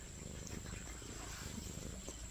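A friendly little kitten purrs softly and steadily close by, a low continuous rumble with a faint background hum and no voices.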